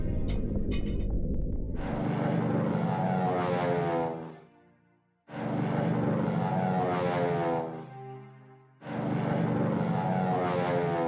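A propeller warplane in a World War I strategy game, with engine drones that swell in three long, loud passes separated by brief quiet gaps, preceded by a couple of sharp clicks.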